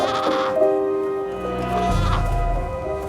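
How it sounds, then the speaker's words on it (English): A young lamb, alone and crying for its mother, bleats repeatedly, thin wavering cries rising and falling over a steady windy background. "Her pitiful cries for mum carry on the wind."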